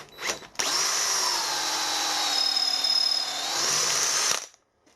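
A power drill cuts into soft aluminium in one steady, loud, close whine lasting several seconds, spinning up sharply and stopping abruptly.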